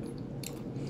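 A crunchy snack bitten and chewed close to the microphone, with a short crisp crunch midway over a low, steady background of chewing.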